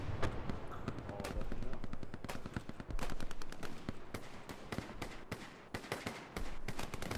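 Dense, continuous gunfire in a D-Day beach battle video game, with rapid machine-gun bursts and sharp repeated shots crackling loudly throughout, no voices over it.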